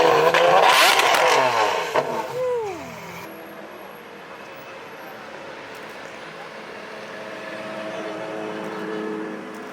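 A 2000-wheel-horsepower manual STO car at a Cars and Copters show revs hard with loud rising and falling engine sweeps over the first three seconds, then crowd ambience and distant engine noise continue at a lower level.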